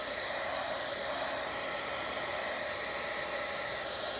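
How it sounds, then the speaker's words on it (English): Steady, loud whoosh of a craft heat tool blowing hot air, a constant broadband hiss with a faint whine that runs unbroken from start to finish with no voices. "So let's hit this with the dryer real quick."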